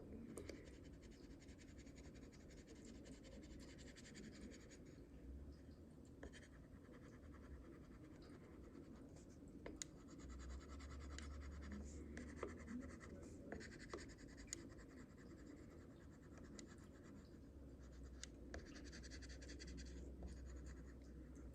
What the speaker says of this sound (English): you take your burnishing tool and then you just kind of do the same thing and you start burnishing things down